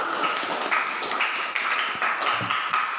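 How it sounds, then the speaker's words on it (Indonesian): Audience applause for a presenting group in a classroom, a dense, even patter of many hands clapping at once, sustained throughout without a break. "Kita beri aplaus untuk kelompok ini"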